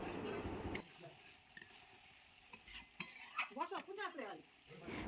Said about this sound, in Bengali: দিয়ে ভালো করে মশলাটাকে কষাতে হবে।